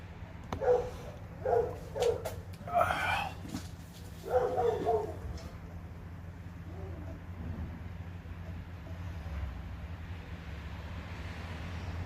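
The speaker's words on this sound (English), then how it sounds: "I haven't heard those big dogs before." Big dogs barking next door, several deep, distant barks in short bursts over the first five seconds, followed by quieter outdoor ambience with a low steady hum.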